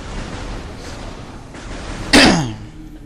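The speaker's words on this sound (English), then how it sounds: "God, I apologize for all the coughing." One sharp, loud cough bursts out close by over a quiet background hum.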